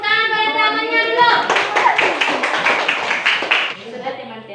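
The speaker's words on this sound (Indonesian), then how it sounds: "Beri tepuk tangan pada temannya dulu" Schoolchildren in a classroom break into quick rhythmic applause for a classmate, a burst of many small hands clapping together, with a voice talking before the clapping begins.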